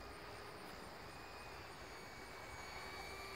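A Hobbyking F-14 RC model jet flies over a park, its steady whine and whoosh holding at a constant level with faint tonal lines, quiet and somewhat distant, with no voices.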